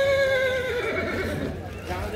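An injured stallion at a Dussehra horse market in Yeola gives a loud whinny up close with descending tremolo pitch, followed by a faint clip-clop and crowd noise.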